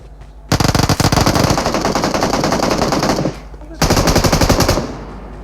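Rapid automatic rifle fire in PUBG Mobile, two loud, close bursts of fast repeated shots separated by a short pause.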